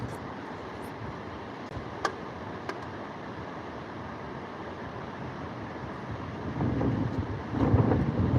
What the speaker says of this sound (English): That is the wind blowing it or what?